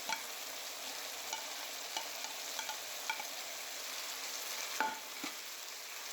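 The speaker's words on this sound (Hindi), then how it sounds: "अब मैं इसमें ऐड करूँगी बंद गोभी और साथ में मैंने लिया शिमला मिर्च और यहाँ पे प्याज।" Cabbage, capsicum and onion going into a pan of cooking chicken macaroni, a soft steady sizzle with scattered light clinks and stirring scrapes, heard alone without talk.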